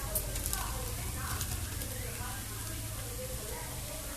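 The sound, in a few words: spice powders sautéing in a pan for paneer gravy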